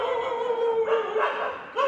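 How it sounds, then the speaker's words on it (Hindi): Dogs in a residential neighbourhood bark from a moderate distance, a couple of yelping, slightly whining barks in quick succession, fairly faint and with no talk. "हमारे इलाके में भौंक रहे,"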